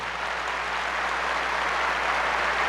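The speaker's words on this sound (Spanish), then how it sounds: "Démosle un fuerte aplauso." An audience at a heated debate with a Catholic priest breaks into strong applause, a loud, unbroken roar of clapping held steady from start to finish.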